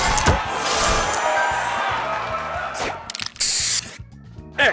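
Spray booster effect from the match-puzzle game Match Masters: a bright hissing spray sweep with game chimes and thuds, followed by short bursts near the end, heard close and alone with no talking.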